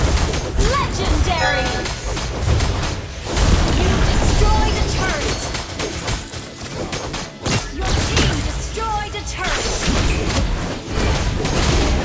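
Booming thuds and crashing impacts from a turret being destroyed in the mobile game Mobile Legends, mixed into a dense, steady wash of battle effects and voices.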